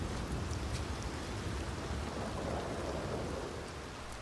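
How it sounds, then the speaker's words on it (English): Steady rain hisses continuously in Red Dead Redemption 2, a dense even wash of falling drops with low rumbling underneath, alone without voices. "it's starting to rain"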